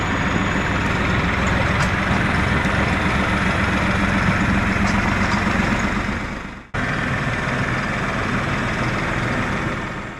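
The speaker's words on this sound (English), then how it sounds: "we'll jump over to the 500i and we'll cut some more wood" A STIHL 500i chainsaw cuts through wood with a loud, steady, buzzing roar that holds nearly constant. It cuts out for a brief moment partway through, then resumes at full strength.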